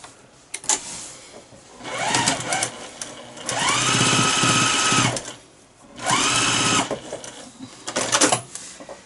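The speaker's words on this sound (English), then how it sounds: "Just slide it under your machine and stitch it down." A sewing machine stitches down the folded fabric edge of a tight-fitting mask in three bursts of fast, buzzing whir separated by brief pauses, close and clear.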